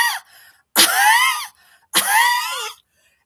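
One person gives two harsh, strained coughs, loud and close, each lasting under a second and separated by silence, with a smaller breathy sound at the start.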